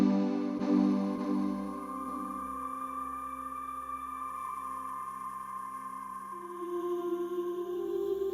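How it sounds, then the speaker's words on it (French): Singing sand dunes give off a sustained, choir-like vibrating hum in unison, with layered steady tones holding across the whole stretch and swelling slightly near the end, with no talking. "Cet unisson, ce chœur vibratoire, c'est le chant des dunes."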